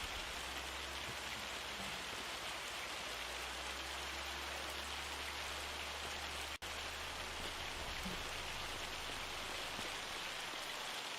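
Rain in the farming game Farming Simulator 25 hisses as a dense, steady wash of drops on surfaces, constant and loud throughout, with a low engine-like drone underneath and one sharp click midway, no talking.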